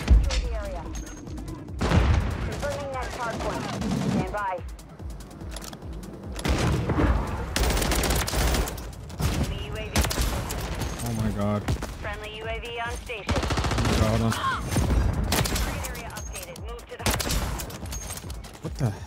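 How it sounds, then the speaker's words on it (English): Infrared sniper rifle shots in a first-person shooter video game, heard as several sharp reports spread across gameplay sound, with someone talking excitedly over much of it. "I'm using an infrared sniper"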